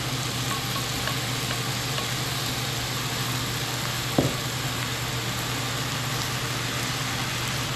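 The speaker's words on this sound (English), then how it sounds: "I'll add about 2 cups of chopped kimchi" Chopped kimchi sizzles steadily in a hot pot for kimchi soup, a constant broad frying hiss with a brief stir or clink near the end.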